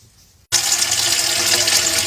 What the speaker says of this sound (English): The first step in our journey is to just simply put water